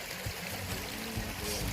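River water runs steadily and faintly in a broad, soft wash, with small trickling and burbling notes on top; no one is talking over it.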